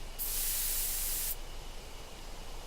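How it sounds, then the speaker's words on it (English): A handheld sprayer releases a sleeping drug onto a giant beehive in the Death Mark video game, one loud continuous hiss lasting about a second before cutting off to quiet room tone. "I take careful aim and spray the drug."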